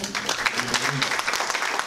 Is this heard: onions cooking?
no